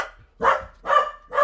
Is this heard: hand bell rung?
no